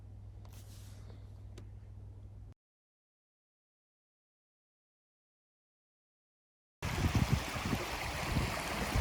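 A river flows at Hill End, New South Wales, heard as a steady broadband rush of water. A low hum opens, then the sound drops out completely before the water returns loud and close for the last seconds.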